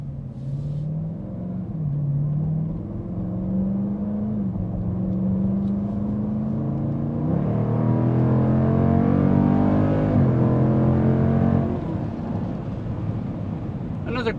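A 2019 Dodge Durango SRT engine heard from inside the cabin, a steady loud rumble whose pitch climbs in stages as it accelerates, then eases off near the end.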